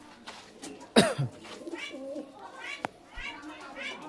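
Big-size Kaldum pigeons in a loft coo softly and intermittently beneath a man's close, ongoing talk, with a brief louder burst near the start.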